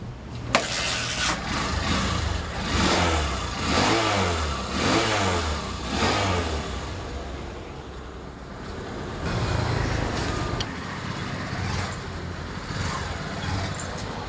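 A Honda TMX Supremo 150 motorcycle engine running after a kick start, with no electric starter, a steady mid-pitched hum that rises and falls with revs throughout.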